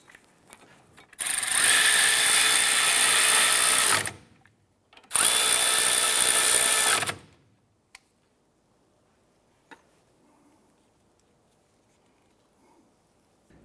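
A power tool drives a bolt into a strut stopper bracket on a 2005-2007 Ford 500, firing two loud whirring bursts a moment apart, followed by quiet with a couple of faint clicks.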